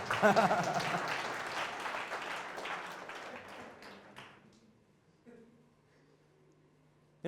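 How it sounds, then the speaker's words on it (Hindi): An audience gives a burst of applause at a ministry gathering, loud at first and then thinning out over several seconds into quiet, with a brief sound at the very end. "एनीवे चलो लगा ही दो एक बार ताली"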